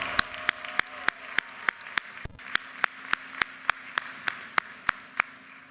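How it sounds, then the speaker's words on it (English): At a University of Maryland commencement, distinct claps ring out in a steady, evenly spaced beat over a soft, diffuse crowd murmur, close and crisp across several seconds. "Give Brianna a round of applause."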